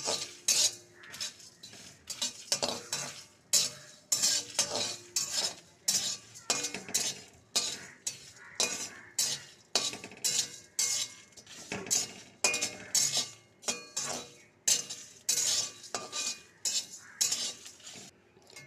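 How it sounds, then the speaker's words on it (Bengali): Fennel seeds and spices being fried and stirred in a pan with a metal spoon give steady, rhythmic clinks and scrapes against the pan, repeating throughout at moderate volume with no talking. "সমস্ত জিনিসগুলো কিন্তু ভালো করে ভেজে নিচ্ছি হালকা হালকা কিন্তু সুগন্ধ বেরোচ্ছে দেখো"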